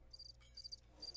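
Crickets chirp in short repeated bursts as a comedic silence gag in the video game Chex Quest, faint and alone against a quiet backdrop.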